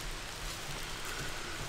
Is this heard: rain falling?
yes